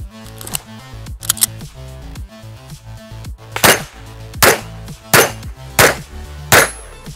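Shotgun fires at clay target plates in quick succession on an outdoor range, a string of about five sharp, loud reports spaced roughly a second apart, with fainter clattering shots in the first seconds.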